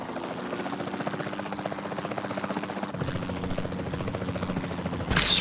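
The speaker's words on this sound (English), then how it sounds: "I just really can't be bothered to lower this helicopter." Helicopter in the video game Jurassic World Evolution 2, a steady rotor and engine drone with a rapid chopping pulse, continuous and fairly close, shifting slightly midway and ending in a brief burst.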